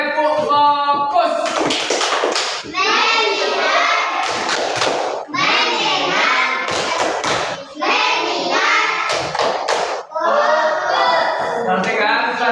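Classroom of children chanting a rhythmic clapping routine, voices in unison punctuated by sharp hand claps in repeating bursts, loud and close throughout.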